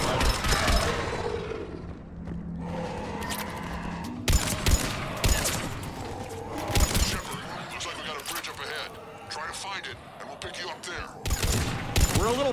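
Sustained gunfire in the video game Mass Effect 3, with repeated sharp cracks and bursts layered over a busy, rumbling battle and background effects, interrupted by voices talking through the combat.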